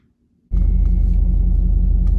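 A 1992 Camaro engine catches suddenly and rumbles loud and steady from close by as the car pulls away, a deep continuous drone after a brief quiet start.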